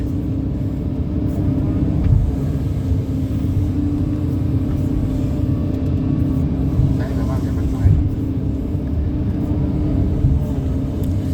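A Kobelco SK140LC SuperXM excavator fitted with a new long boom, its diesel engine working in a deep, steady rumble up close, with people talking over it.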